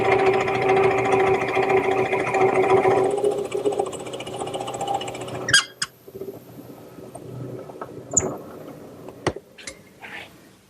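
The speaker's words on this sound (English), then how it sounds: "And I'll do all that at the drill press." A drill press bores a 3/8-inch through hole and a counterbore for a washer and nut in wood for a turned post bed. A steady motor whine runs for about three seconds, then winds down, followed by sparse clicks and knocks.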